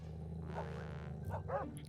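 A dog in a video game gives a few short barks and yips over a steady low background hum, moderately close and fairly quiet.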